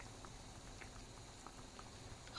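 Broth of wild forest hen and teal duck simmers in a pot, giving a faint, steady bubbling and soft popping close by, with no voices.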